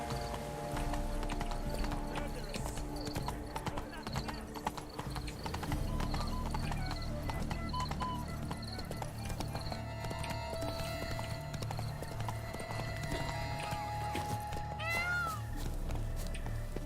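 Horse hooves clip-clop steadily at a gallop in the video game Witcher 3, a continuous rhythmic pounding under a busy bed of game music, with a brief whinny near the end.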